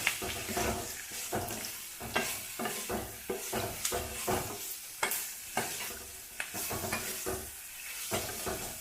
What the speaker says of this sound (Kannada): ಈಗ ಒಂದು ಹೀರೆಕಾಯಿ ಹಾಕಿದ್ದೆ ಇದನ್ನು ಚೆನ್ನಾಗಿ ಹುರ್ಕೊಳ್ರಿ